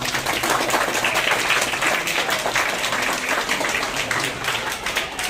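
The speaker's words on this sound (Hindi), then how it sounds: "जोरदार ताली आप लोग।" Audience applause at a school event where children receive kits from the Akshaya Patra Foundation: steady, crowded clapping from many hands, fairly close and even throughout, with no speech over it.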